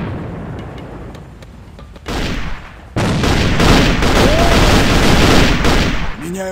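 Heavy gunfire and blast sounds from a team match in the shooter game AVA, with a loud sustained burst of explosive noise and rapid firing that fills the scene, then eases near the end.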